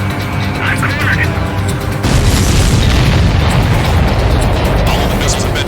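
Missiles explode in the aerial combat game Ace Combat 7, heavy booming blasts over roaring jet engine noise, loud and dense throughout, with radio voices talking underneath.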